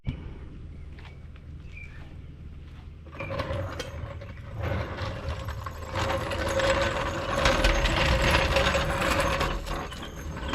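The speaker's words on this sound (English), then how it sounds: "all I did was I removed the lug nuts off that side" A hand ratchet clicks and whirs as lug nuts are taken off a car wheel while a tire is being changed, with quieter mechanical sounds at first and then steady, louder ratcheting for the last several seconds.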